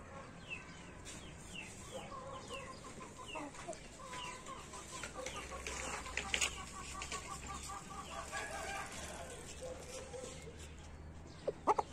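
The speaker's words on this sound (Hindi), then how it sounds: "ये भी परेल मुर्गा है लेकिन दुम अभी इसकी कच्ची है" A Parel rooster and other chickens cluck and call softly nearby, scattered short bird sounds over a low background with faint human voices.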